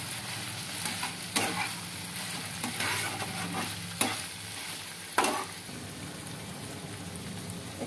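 Chicken fries in a pan with tomato, onion and green chili for a chicken sandwich, giving a steady sizzle with a few sharp scrapes of stirring spaced through it, no voices.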